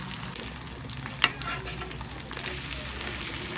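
Fish frying in a home kitchen pan, a steady low sizzle running throughout, with a brief sharp clink of a utensil near the start and a slight rise in the crackle toward the end.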